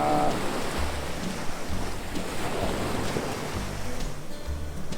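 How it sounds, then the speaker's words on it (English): Ocean waves roll and wash continuously at Ala Moana Beach Park on Oahu, Hawaii, on a morning shore: a steady broadband surf roar with low rumbles as each wave breaks, and no voices. "Beautiful morning at Ala Moana Beach Park."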